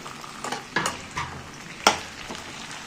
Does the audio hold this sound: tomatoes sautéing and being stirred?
yes